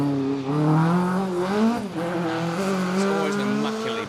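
A Ford Escort Mark II rally car on an asphalt stage at Rally Ceredigion, its engine revving hard with rising and falling pitch through gear changes, loud and close, with a tyre squeal and faint crowd or commentary underneath.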